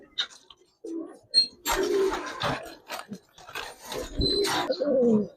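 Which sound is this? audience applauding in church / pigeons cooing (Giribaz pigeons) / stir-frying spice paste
pigeons cooing (Giribaz pigeons)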